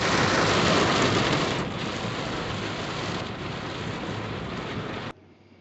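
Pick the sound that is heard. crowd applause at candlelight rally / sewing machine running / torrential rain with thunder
torrential rain with thunder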